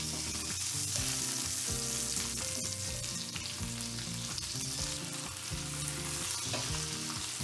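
Chicken breasts frying in a pan with lemon and rosemary sauce, a steady close sizzle with crackling and spitting throughout, no talking.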